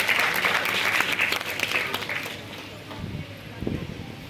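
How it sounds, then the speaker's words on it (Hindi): Audience applause at an annual day celebration honoring student achievers, a dense burst of clapping from a crowd that fades out after a couple of seconds, with faint low rumbling sounds afterward. "इन होनहार बच्चों के लिए एक बार जोरदार तालियां"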